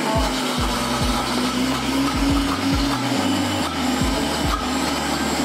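A kitchen blender whirs loudly and steadily as it purees chickpeas into hummus, its motor droning close with repeated low thumps of the contents churning, and no voices over it.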